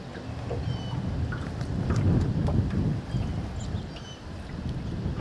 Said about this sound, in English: that wind is evil. It just keeps pushing us over too